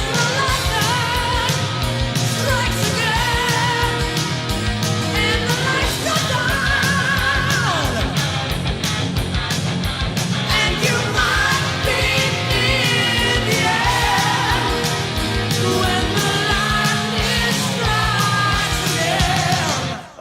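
A hair metal song plays loud and dense, with driving drums, heavy distorted guitars and high, soaring vocal screams that carry on without a break.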